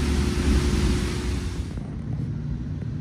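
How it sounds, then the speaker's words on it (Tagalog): Heavy rain and strong wind lash the shore at Dolomite Beach in Manila during Typhoon Crising, a dense, steady roar that is loud at first and eases slightly partway through, with no voices. "biglang lakas ng ulan at hangin."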